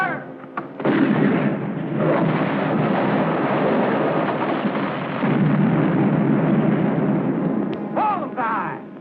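Heavy cannon fire in a Civil War battle scene, a dense continuous roar of booming artillery and rumbling blasts that fills the whole stretch, with a brief pause near the start and a whistling sweep near the end.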